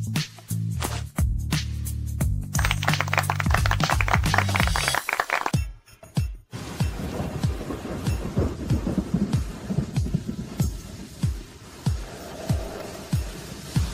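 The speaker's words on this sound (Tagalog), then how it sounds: "Lalong lumalakas ang ulan." Heavy rain pouring down with thunder rumbling, followed by steady rainfall and scattered drips close by.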